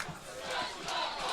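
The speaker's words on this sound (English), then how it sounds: "the crowd's starting to chant, "Let's go Bows."" Crowd noise from the stands at a college football game between Tufts and Hamilton, a broad, steady roar of many voices rising into a chant, distant and continuous.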